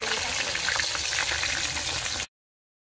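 Maswadi vadis deep frying in hot oil, giving a dense, steady bubbling sizzle at close range that cuts off abruptly near the end.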